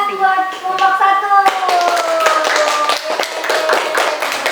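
Classmates in a school lesson clap for a presenting group, a burst of scattered hand claps starting partway through and continuing under overlapping voices and chatter.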